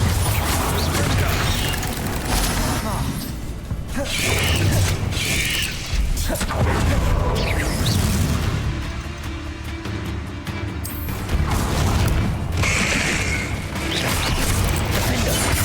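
Bombarda blasting spell going off during a Hogwarts Legacy duel: dense, loud crashes and mechanical clattering, with bursts of impact and shattering debris layered continuously throughout a hectic fight.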